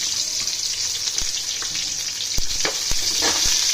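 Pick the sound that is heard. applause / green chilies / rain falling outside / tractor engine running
green chilies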